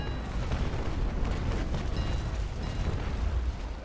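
Naval cannon gunfire during a sea battle in the Naval Action game, with a pirate frigate nearby: a steady, dense rumble of overlapping booms and blasts that runs without a break, loud throughout.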